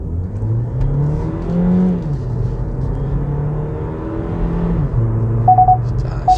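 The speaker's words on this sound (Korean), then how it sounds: "자, 순식간에 큰 힘을 끌어내는 건 아니고요, 하지만 꾸준히 차근차근 속도를 높여가면서 가속을 이어가는 그런 반응입니다." Hyundai Ioniq Hybrid in sport mode with the air conditioning off, accelerating hard from a standstill in a 0–100 km/h run. The engine drones close and loud, its pitch climbing steadily, dipping briefly at gear changes, then rising again.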